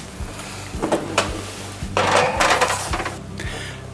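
Khachapuri bread going into an oven, with a quick series of close metallic clanks and knocks of a tray and oven door, then a rushing clatter as it slides in and a final bump.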